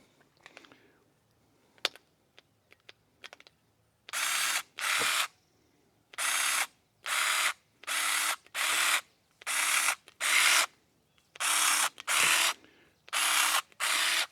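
WorkPro cordless electric pruning shears cut plants in about ten evenly spaced, whirring mechanical bursts. A few faint clicks come first.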